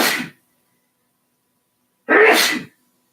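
A person sneezes twice, each a short, sharp, close burst, with about two seconds of silence between them and no other sound.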